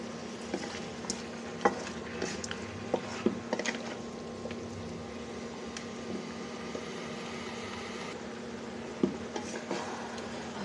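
Desi chicken curry with cumin powder being stirred and sautéed in a pan, a low continuous sizzle broken by repeated clinks and scrapes of the spatula against the metal, steady and fairly close, with no talking.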